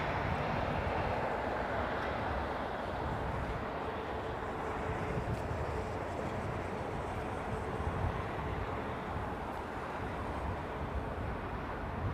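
An airliner comes in to land in challenging conditions, a broad, steady roar of engines and rushing air holding at moderate loudness throughout.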